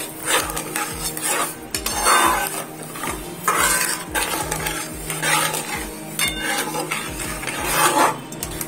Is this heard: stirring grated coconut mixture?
yes